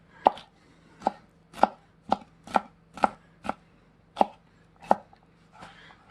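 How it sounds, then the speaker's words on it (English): A Dalstrong Crixus chef knife cutting meat on a board, ten evenly paced crisp chops, each a sharp close knock with a short ring, separated by quiet gaps. "Now let's see how it does to this meat. Let's cut these up a little bit here."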